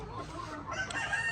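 Old white leghorn chickens cluck and call briefly on a farm, close and moderately loud, with a sharper squawk near the end.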